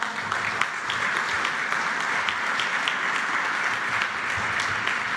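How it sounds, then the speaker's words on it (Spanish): An audience from the Mexican film community applauds at a government event, dense continuous clapping heard alone at an even level for the whole stretch. "Un aplauso a esta maravillosa y creativa comunidad."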